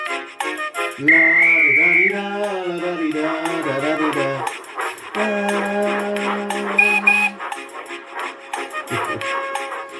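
Bright, sliding CGI train whistle tones from the Thomas & Friends Arlesdale railway sound over music with a few quick voice fragments, the high pitched toots rising and holding like a cartoon train whistle.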